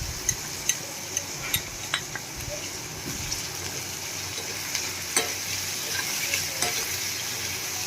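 Onions cooking in a pan with salt and turmeric give a steady close sizzle, while a spoon stirs them and clicks against the pan in a series of sharp taps, mostly in the first two seconds.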